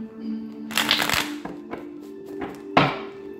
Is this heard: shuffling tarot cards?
yes